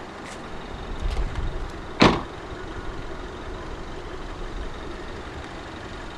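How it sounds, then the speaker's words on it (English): A 2014 BMW 316i's bonnet release lever is pulled, giving a single sharp clunk as the bonnet pops open, with some faint knocking just before and a quiet background afterward. "Pull the bonnet release lever once to pop the bonnet open"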